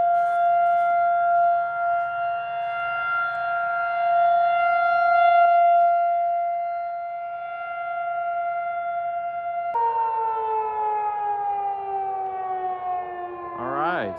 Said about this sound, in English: apparently we're testing our sirens